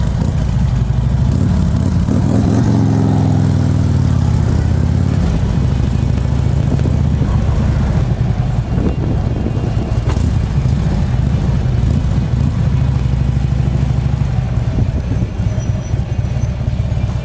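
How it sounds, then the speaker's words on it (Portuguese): A motorcycle of over 1000cc with a Vansenheims aftermarket exhaust rumbles loudly and steadily throughout, with a deep throaty exhaust note and a few revs near the start. "Escapamento Vansenheims, coisa linda, ó."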